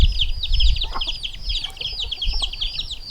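Chickens in an expanded chicken run on a farm in late autumn give a steady stream of close, overlapping chirpy clucks and peeps, with low rumbling underneath and no talk.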